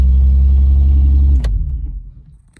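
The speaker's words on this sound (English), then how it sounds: "It's got an exhaust leak." A wrecked 2014 Infiniti Q50s with an exhaust leak runs at a loud, deep, close idle, then shuts off partway through and the rumble fades away.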